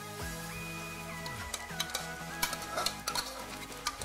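Boiled dal goes into a pan of tomato masala and is stirred, giving close, steady sizzling with scraping spoon strokes and soft clinks of utensil on the pan for several seconds, no talking.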